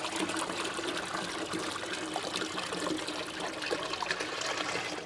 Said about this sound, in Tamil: அதுக்கடுத்து இன்னொரு குடம் வந்து ஊற்றிக்கிறேன்.